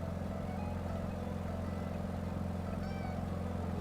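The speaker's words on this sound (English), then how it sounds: "listen to that engine purr" A Beechcraft Model 17 engine drones steadily in a flight simulator, a low, continuous, even purr heard from inside the cabin over New York City, with no voices.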